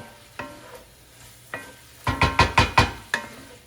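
Ginger and garlic are added to a hot pan for Spam and pineapple fried rice. A faint sizzle is broken by a few scattered knocks, then a quick run of close, clattering stirs, with no voices.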